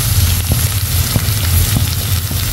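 Onions with salt and turmeric sautéing in a pan for tomato rice, a close, steady sizzle and crackle with a few soft scraping stirs.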